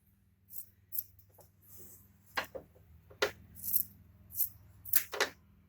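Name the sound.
scissors trimming fabric of a sewn safety mask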